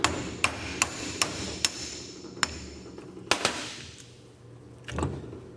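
A hammer knocks the end yoke off a double cardan joint from a 1996 Toyota 4Runner, sounding as about ten sharp metallic strikes in an uneven rhythm, close and loud, with a brief quieter scrape between blows.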